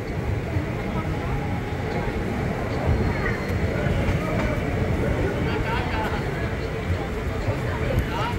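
Passenger train running from Digha towards Kanthi, a steady rattling rumble heard from inside the carriage with faint background chatter.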